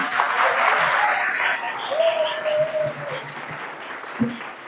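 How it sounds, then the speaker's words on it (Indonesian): A crowd at a school Easter worship service in Batam claps together in dense, sustained applause that fills the whole stretch, with a voice briefly audible beneath it. "Coba tepuk tangan untuk Tuhan."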